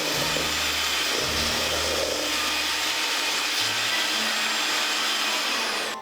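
Electric mixer or blender whirring steadily as it creams sugar and butter for Christmas sugar cookies, a continuous close motor drone with some rattling, no talk over it.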